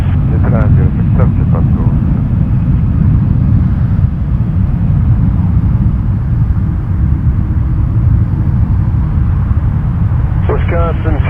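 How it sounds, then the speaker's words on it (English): An Air Canada Airbus A330 jet at Toronto Pearson Airport produces a loud, steady low roar throughout, with brief radio voices at the start and end. "Headed to Montreal, Air Canada 420 on an A330."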